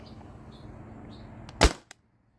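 A Tippmann TiPX paintball pistol fires through a chronograph: one sharp close pop over a low background hum, followed by a faint short click before silence.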